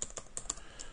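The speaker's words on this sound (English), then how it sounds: "Make sure the keyboard gets all the key strokes there." Keys clack on a computer keyboard, about six quick, light keystrokes in an uneven rhythm, close by and alone.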